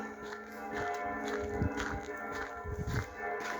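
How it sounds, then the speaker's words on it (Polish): Bells ring with a sustained metallic tone, steady and moderately loud, while footsteps crunch nearby. "dzwony dzwonią"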